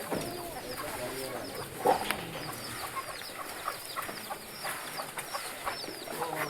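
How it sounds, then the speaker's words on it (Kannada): Hens and small chicks on a goat and poultry farm cluck and cheep steadily nearby, with small chirps scattered throughout and a brief louder squawk early on. "ಚಿಕ್ಕ ಕೋಳಿ ಮರಿಗಳು"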